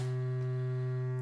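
A steady, low-pitched triangle-wave tone from a modular synthesizer holds one unchanging pitch throughout, with a smooth buzzy timbre and nothing else audible.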